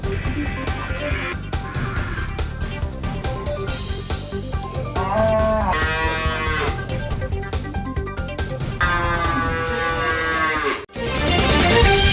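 Sacrificial livestock cattle mooing loudly and repeatedly, long drawn-out lowing calls one after another at a busy animal market, with a dense crowd and background noise throughout.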